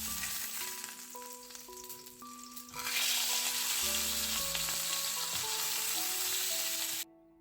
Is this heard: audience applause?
no